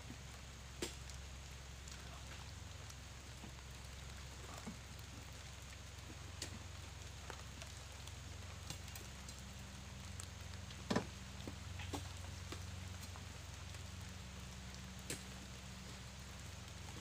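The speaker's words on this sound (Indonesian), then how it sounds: "Hujan." Light drizzle falling during a truck-loading job, a faint, steady hiss of rain with scattered soft drips and taps landing on nearby surfaces, no voices over it.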